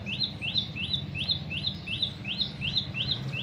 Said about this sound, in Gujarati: અહીંયા ચકલીઓ આવી ગયું છે